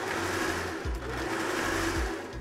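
A plugged-in household sewing machine runs steadily on its own, a continuous close mechanical whir with a low motor hum and brief surges where the speed shifts, no voices over it.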